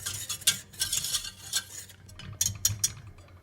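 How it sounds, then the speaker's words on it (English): A whisk scrapes and taps rhythmically inside a pot of lemon meringue pie filling warming on medium heat, with quick bright strokes in uneven bursts, close and fairly quiet. "now we're going to put it on medium heat. Okay. And we're just going to whisk."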